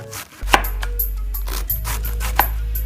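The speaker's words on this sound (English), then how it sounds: "Begin by slicing the cabbage and carrot." A knife slices cabbage and carrot on a cutting board, landing several crisp, separate strokes close up over quiet background.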